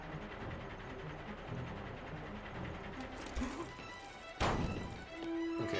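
A punch in the video game Mercenaries 2: World in Flames lands as a single heavy thump partway through, set against continuous game sounds and mechanical clatter.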